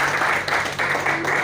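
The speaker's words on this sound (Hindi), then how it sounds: "वो शानदार तालियां हो जाए" A crowd claps in steady applause, dense and continuous, for a brief moment.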